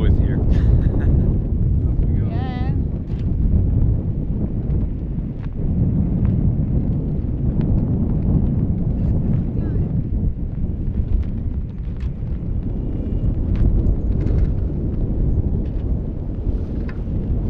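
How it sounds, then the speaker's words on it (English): Strong wind buffeting the microphone at a boat dock, a constant loud rushing roar with gusty swells throughout and a brief faint whistle. "that's the wind that we deal with here"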